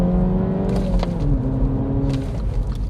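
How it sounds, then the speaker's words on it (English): A 2017 MINI Cooper S five-door's engine blips and rises in pitch as it rev-matches on a downshift, loud and close from inside the cabin, with a steady road rumble underneath. "it rev matches on your downshift"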